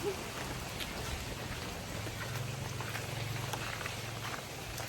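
Heavy rain pours steadily at a home, a dense even hiss of falling water with a low rumbling undertone, continuous and unbroken with no voices.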